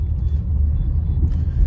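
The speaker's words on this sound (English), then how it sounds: "Here's that same bump again, speed breaker" A 2020 Honda City rolls slowly over a mid-size speed breaker at night, heard from inside as a low, steady road rumble with a soft thump of the bump.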